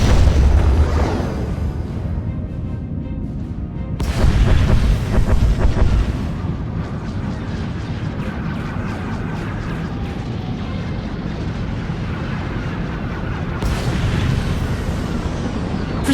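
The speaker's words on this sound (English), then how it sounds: "Proceeding with bombardment" Heavy starship bombardment explosions in SWTOR, deep booming blasts at about 0, 4 and 14 seconds over a low rumbling roar, loud and layered, with no talk.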